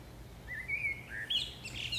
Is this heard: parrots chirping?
yes